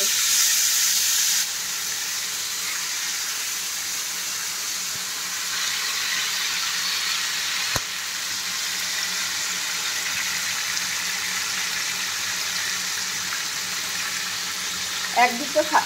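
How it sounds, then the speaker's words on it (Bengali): Chicken pieces frying gently in a pan with whole garam masala, a steady broadband sizzle and hiss running continuously at moderate level, with a few brief clinks near the end. "তারপর আমি চিকেনের পিসগুলোকে আস্তে আস্তে করে ভেজে নিচ্ছি।"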